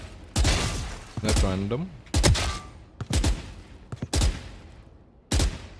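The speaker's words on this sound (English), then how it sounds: "Move first, then shoot." Gunshots from aim practice in the video game Valorant come in short separate bursts of one to several shots, with brief gaps between them. A voice speaks briefly over them.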